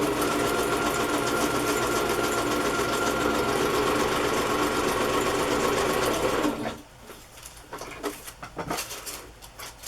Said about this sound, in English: I'm going to sew a zigzag stitch.